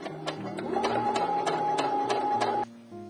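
A sewing machine stitches linen shorts, its rapid steady mechanical whir running for about two and a half seconds with regular clicking pulses, then stopping abruptly.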